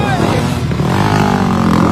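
A 250cc motocross bike races by with its engine roaring loud and close, the revs holding steady and strong without a break.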